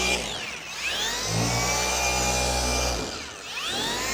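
A machine polisher buffs 3D Speed all-in-one polish over a car's paint with a loud, steady whirring drone. The pitch rises and dips throughout the clip.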